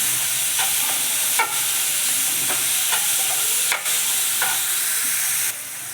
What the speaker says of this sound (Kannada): ಈರುಳ್ಳಿ ಫ್ರೈ ಆಗ್ತಾ ಇದೆ.